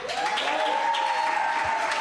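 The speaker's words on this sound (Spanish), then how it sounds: "Quiero que recibamos con un fuerte aplauso a Valeria Revueltas." An audience at a church youth leadership gathering welcomes Valeria Revueltas with applause, a continuous wash of clapping with a sustained tone running through it.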